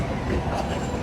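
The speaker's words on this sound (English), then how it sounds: "Guys, I'm just waiting for my train." Train rumbling at a station platform, a steady dense roar with rail and wagon noise and no clear pauses, close and continuous through the short moment.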